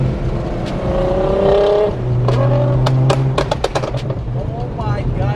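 Loud car engine revving at a street car show featuring a bolt-on GTR, with a steady high rev held before rapid blips, among crowd noise and people talking nearby.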